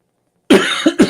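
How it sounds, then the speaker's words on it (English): Two sharp, close coughs after a moment of silence, the first harsh and rasping, the second following quickly. "Coughing my guts out over here."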